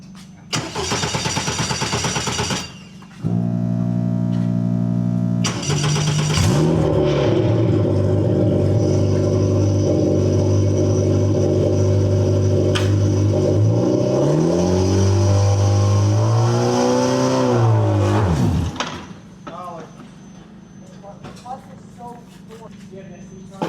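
An F4 race car engine starting up at a test day, then a loud, close mid-pitched engine holding steady before revving up and down and cutting to idle, with voices talking.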